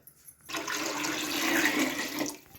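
Water pours steadily into a pot of rice for chicken biryani for about two seconds, a close, rushing splash that starts abruptly and tapers off.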